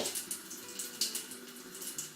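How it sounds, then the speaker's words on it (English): Cold tap water runs steadily into a sink while a metal spoon is rinsed under it, a soft continuous hiss with light spatter and a few brighter splashes, close by and alone. "rinse the metal spoon under a cold tap"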